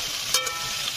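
Onions and potatoes frying together in a pan give a steady soft sizzle, with a couple of brief stirring scrapes over about a second; no voices.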